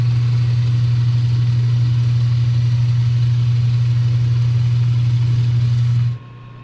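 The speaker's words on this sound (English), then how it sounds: "I'm going to go ahead and turn this diameter here to 1 inch 187" A South Bend lathe turns a two-stroke engine cylinder, giving a loud, steady motor hum with a strong low drone that holds evenly and then cuts off abruptly near the end.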